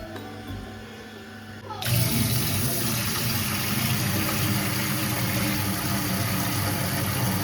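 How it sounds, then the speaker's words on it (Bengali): Water pours into a basin for a home pedicure, starting abruptly after a quiet moment and then gushing as a steady, close splash that fills the rest of the clip. "এর সাথে আরো জল দেবো।"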